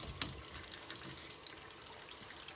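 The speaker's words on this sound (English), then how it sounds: "as you can hear, the water is trickling through that black pipe there" Water trickles through the black overflow pipe of a newly installed kitchen sink, a faint, soft continuous dribble with light splashy detail and one brief drip-like tick early on.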